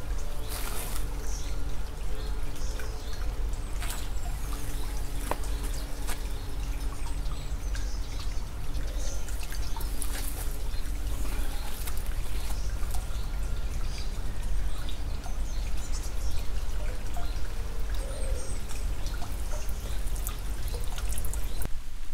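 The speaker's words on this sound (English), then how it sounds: "I'm just putting these in really gently, because sometimes when you put plant pots into water like this" Plant pots lowered gently into the water of a half-barrel pond, giving soft continuous trickling and dribbling splashes with a low outdoor rumble throughout, close and steady.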